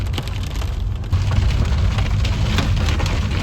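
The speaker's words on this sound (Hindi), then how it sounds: "यहाँ तो ओले ये पड़ रहे तो तड़ातड़ पड़ रही है भाई" Hail pelts down hard and close on a moving vehicle on the mountain road to Kedarnath, a dense, continuous clatter, a steady roar of impacts with no voices.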